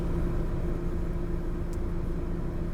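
A parked car's engine idles, a steady low rumble with a faint whine, continuous and even for the whole stretch with no talking.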